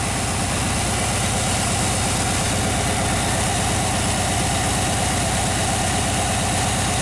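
A classic Chevy engine idles steadily at close range, a continuous low rumble with a fast even pulse and no voices over it.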